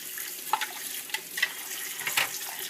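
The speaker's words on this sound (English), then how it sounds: "And I just do a quick good rinse" Tap water runs steadily over juicer parts as they are rinsed in a sink, a soft continuous splashing punctuated by a few brief clatters and splashes as the pieces are moved under the stream.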